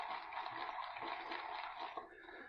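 Water running and splashing into a shaving lather bowl, a steady close rush that eases off near the end.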